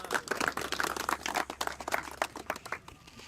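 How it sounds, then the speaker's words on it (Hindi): Scattered hand clapping from a small group, close and fairly quiet, fading out after a few seconds. "तालियां"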